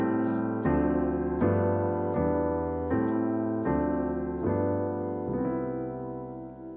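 Piano chords moving through the rhythm changes jazz progression, a series of sustained block chords struck about every three-quarters of a second, loud, close and unaccompanied.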